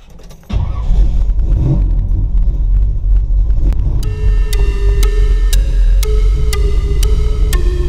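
A Chevrolet Nova two-door gasser project car turns over and catches in the first half second, then settles into a loud, steady, rumbling idle close by, with a faint metallic whine entering midway.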